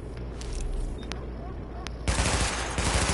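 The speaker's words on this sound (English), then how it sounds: "Weapon test initialized. Open fire at the highlighted targets." Weapon fire at highlighted targets during a weapon test in the video game The Division: a few isolated shots first, then a dense burst of automatic gunfire, loud and close.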